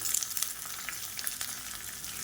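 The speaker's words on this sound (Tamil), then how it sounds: "இந்த வரமிளகாய் நல்லா வறுபடணும்." A tempering for curd rice of dried red chillies, urad dal, curry leaves, ginger and green chilli fries in oil, giving a soft, steady sizzle with small crackles.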